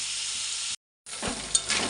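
Prawns sizzle and spit loudly in an oil-filled pan, a close, continuous hiss broken by a brief silent gap, then resuming with small pops and stirring.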